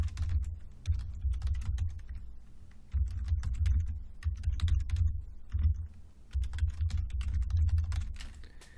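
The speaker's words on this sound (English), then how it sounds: "this is me trying to type and talk again" Steady typing on a computer keyboard, with close, rapid clicks running in uneven bursts over a low background rumble and no speech.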